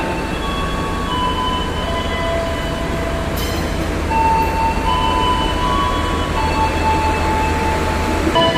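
Taksaka passenger train pulling out of a station platform, a loud steady rumble with thin drawn-out squeals and tones over it.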